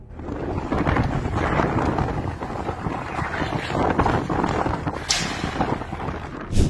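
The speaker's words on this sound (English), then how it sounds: "And this is Aruba when a storm hit." A storm striking Aruba: a steady roar of strong wind and heavy rain fills the whole stretch, with low rumbling beneath and a brief sharper burst near the end, loud and close with no voices.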